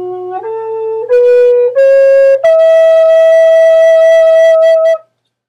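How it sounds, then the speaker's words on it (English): A breathy wooden Native American flute plays a rising five-note pentatonic scale, each note held briefly before stepping up, ending on a long sustained high tone. "This scale is called the pentatonic scale, and it sounds like this."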